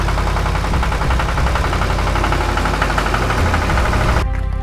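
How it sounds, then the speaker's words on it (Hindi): A mini tractor's engine runs loud and close during a mud race, with a rough, knocking mid-pitched chug that holds steady before cutting to a lighter idle at the end. "फिर प्रतियोगिता आरंभ होते ही मिनी ट्रैक्टर कीचड़ में से बहुत आसानी के साथ"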